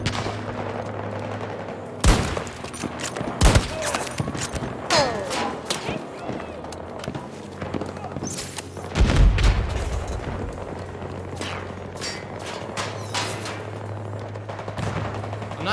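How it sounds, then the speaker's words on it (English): Battlefield 2042 combat brings repeated bursts of near and distant gunfire, sharp cracks and rattling volleys over a steady low hum, with a couple of louder booms mixed in. "Not sure who's shooting me right now."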